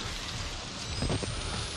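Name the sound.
rain falling in the video game Outlast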